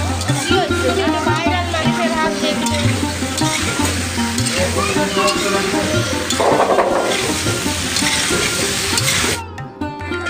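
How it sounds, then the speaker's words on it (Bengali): Already-fried potatoes and soybean being stirred and tossed in a pan, with scraping, sizzling and occasional clinks of the spatula under steady talking and background music. "খুব ভালোভাবে এবার নাড়াচাড়া করে মিশিয়ে নেব"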